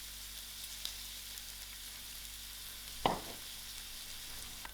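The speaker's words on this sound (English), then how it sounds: "Now the oil is heated up, so I'm going to throw in my onions first and allow these onions to fry soft." Onions sizzle softly in heated oil for a creamy chicken and mash bake, a faint steady frying hiss with one brief stir or clatter midway.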